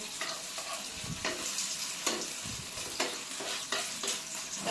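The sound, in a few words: frying egg and poppy seed omelette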